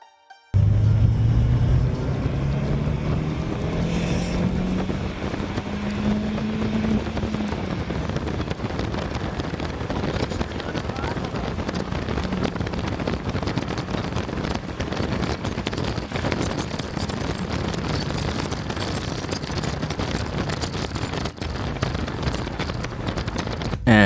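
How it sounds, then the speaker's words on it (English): A 21-year-old Citroen Xantia with a 2000cc XU10 engine pushed hard through second and third gear, heard as a loud continuous engine drone mixed with heavy wind and road rush, rising in pitch over sustained acceleration. "The owner tried to impress me by pushing the car to its limits in second and third gear."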